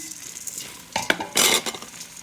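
Onions, garlic, bay leaf and farro being stirred in a pot, quiet at first, then a few sharp scraping and clinking strokes of a utensil against the pot over a faint sizzle.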